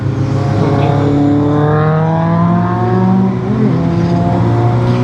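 Vehicles drive along a road on a hartal day, engines rising and falling in pitch as they accelerate and pass close by, loud and continuous with no talk.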